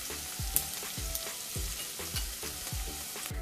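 Onions fry in a pan for moringa drumstick dal. A soft, steady sizzle carries a regular rhythm of low spatula strokes against the pan, fairly quiet and without talk.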